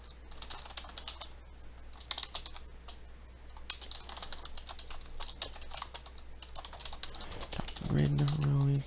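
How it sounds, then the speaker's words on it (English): Someone types on a computer keyboard while coding in Python, with rapid, irregular clicking keystrokes close by over a low steady hum, and a brief tonal sound at the end. "A lot of typing, sorry."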